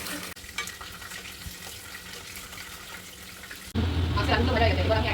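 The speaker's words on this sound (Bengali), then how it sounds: "মাংসের আলুগুলো ভাজা হয়ে গেছে" Potatoes for chicken curry fry in oil, a soft steady sizzle that suddenly swells into a louder, fuller hiss near the end, with no talking.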